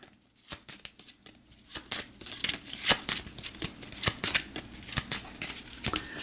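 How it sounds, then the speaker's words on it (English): A deck of Automa cards for the board game Terra Mystica is shuffled up close, with rapid riffling bursts and sharp card snaps building into a busy, continuous flutter. "Then we'll shuffle the Automa deck up."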